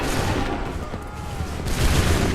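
Dense musket volley fire on an Assassin's Creed 3 battlefield at Lexington and Concord, a continuous loud roar of overlapping shots and booms that swells again near the end.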